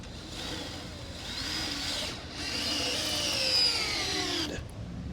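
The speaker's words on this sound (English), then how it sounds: "Ooh, my drill's dying." A power drill whirs in uneven bursts, its motor pitch sagging and straining as if running low, with a brief pause midway and no talking.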